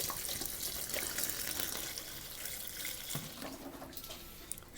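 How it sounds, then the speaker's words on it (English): Water runs steadily from a tap into a container of coconut husk chips, a continuous close splashing and trickling stream with no talk. "I put the coconut husk cubes in, or chips, in the container, and then I add the water"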